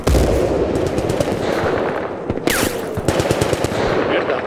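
Sustained machine-gun and rifle fire in Battlefield: Bad Company 2, with dense rapid bursts sounding loud and close. It runs almost continuously and includes one sharp whooshing shot.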